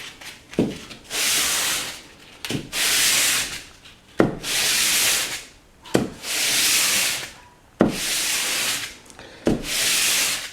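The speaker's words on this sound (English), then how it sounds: "take another piece of sandpaper and do this, get rid of these big edges here" Sandpaper is rubbed by hand across drywall in long, steady strokes, each pass a loud raspy scrape, repeated about six times with a faint tap before each one.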